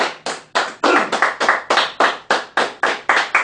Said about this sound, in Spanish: Bríndale un aplauso al Señor Jesucristo